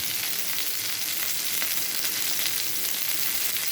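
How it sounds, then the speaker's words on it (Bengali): Rohu fish fries in a pan of hot oil, giving a steady, even sizzle that holds at moderate volume throughout with no talking. "মাছ ভাজা আমার হয়ে গেছে"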